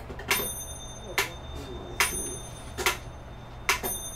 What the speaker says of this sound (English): So I'll put a bell to tell us when it's beat four.